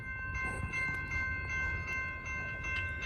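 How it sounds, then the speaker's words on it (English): A Norfolk Southern freight train rolls past at Charlotte, a steady loud rumble of wheels and cars throughout with bright metallic squeal tones riding on top, no talking. "last train of the night"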